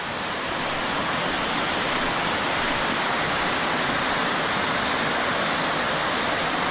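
A powerful, continuous roar of rushing floodwater swollen by heavy rain, loud and unbroken, like a torrent pouring past close by.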